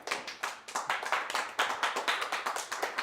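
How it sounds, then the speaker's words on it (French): An audience at a European film festival in Les Arcs claps steadily, the sharp claps close and fairly dense, keeping a loose, lively rhythm without talk. "on peut les applaudir quand même"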